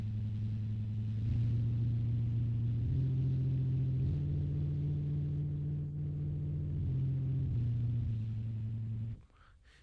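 A siren droning like a car with its muffler removed: a loud, steady low roar held for about nine seconds, stepping slightly in pitch before cutting off abruptly near the end.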